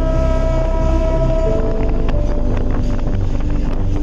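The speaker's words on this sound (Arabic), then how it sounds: "طبعا قطر ابو قير" A loud, continuous rumble of the Abu Qir train in Alexandria rolling along the tracks nearby, with rhythmic clatter and heavy wind buffeting the microphone.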